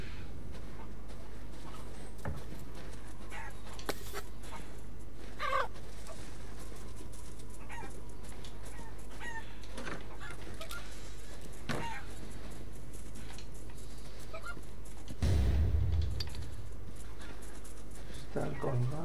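Chickens clucking in the horror video game Resident Evil Village, soft and scattered beneath a steady background bed of game ambience, with no voices.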